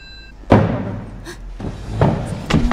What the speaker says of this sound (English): Why do I hear furniture moving?